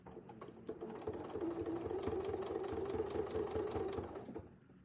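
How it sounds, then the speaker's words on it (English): A sewing machine stitches a feather wreath design on a quilt, running steadily at a close, moderate pace for about four seconds before stopping, with no talking. "you're only sewing a very small amount"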